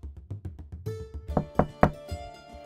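Knocking on a house door: a steady series of soft low knocks followed by three louder, sharper raps, close by with no voices.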